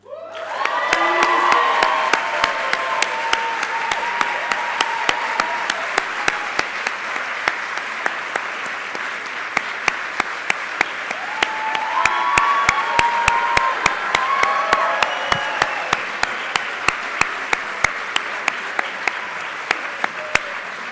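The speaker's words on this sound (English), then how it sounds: "please stand up so we can give you your applause" Sustained crowd applause at a master's graduation ceremony as Dean's List graduates stand, with a few whoops and cheers rising over the steady clapping and sharp nearby claps punctuating it throughout.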